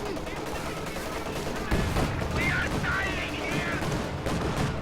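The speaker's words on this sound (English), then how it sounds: "Heavy mortars continue to barrage the area." A heavy mortar barrage in Company of Heroes 2 rumbles on as continuous thuds and crackling explosions, a dense battle din with a voice partly audible over it.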